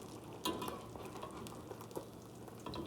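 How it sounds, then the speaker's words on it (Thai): Sun-dried snakeskin gourami fish frying in hot oil, a dense crackling sizzle with scattered pops, heard up close and without voices. "นี่จะมาทอดปลาแล้วค่ะ ปลาสลิดแดดเดียวค่ะ"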